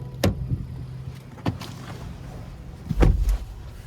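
A driver climbs into the seat of a 2023 Honda Pilot LX AWD: three distinct thumps and rustles of the body settling in, the last one heavier and closer, over a quiet cabin with no talking.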